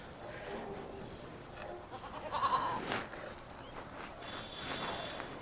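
A goat tied at the door of a house bleats faintly once amid quiet outdoor background noise, with possible soft voices further off.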